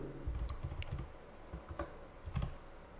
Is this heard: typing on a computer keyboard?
yes